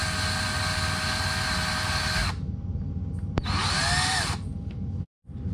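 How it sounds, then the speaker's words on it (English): A power drill twists safety wire on a hose clamp of a Suzuki GSX-R 600 motorcycle. It gives two loud, close, high whining runs: a long steady spin, then a shorter burst that winds down in pitch. "I'm gonna go ahead and twist the wire now with the drill"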